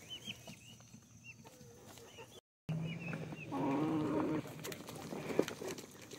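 Harsh, repetitive calls from several guinea fowl, some nearby and loud, mixed with farmyard clucking and background noise, with a brief gap of silence midway.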